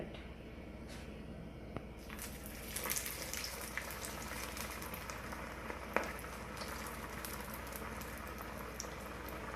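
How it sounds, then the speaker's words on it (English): Aloo tikki deep frying in hot oil gives a steady, dense sizzle and bubbling with scattered crackles and pops, held at an even level close by for the whole stretch. "So I'm going to deep fry it."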